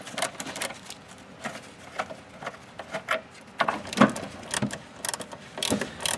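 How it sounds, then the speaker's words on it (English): A side post wrench loosens the 5/16 or 8mm terminal ends on a Chrysler Sebring battery, making close, irregular metallic clicks and scrapes in uneven bursts, with no talking. "we're going to go ahead and use this tool. It's a side post wrench."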